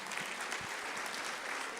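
Applause at a Sunday morning church service welcoming the facilitators, a dense, steady clapping from the congregation lasting the whole moment without breaks.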